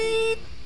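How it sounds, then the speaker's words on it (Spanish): A single electronic alarm beep sounds loud and clear for about a third of a second, then stops, leaving quiet room tone. "Sonó la alarma."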